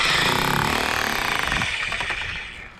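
A Bauer 10A hammer drill chisels loudly into a brick chimney during demolition, a dense, rapid pounding that runs steadily close by and then tapers off near the end.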